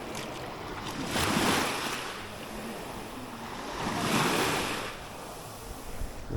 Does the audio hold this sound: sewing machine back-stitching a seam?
no